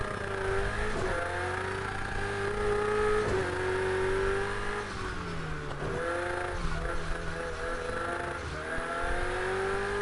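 Porsche race car engine in Project CARS 2 revving loudly and steadily, its pitch climbing and dropping through repeated gear changes over an unbroken mechanical drone.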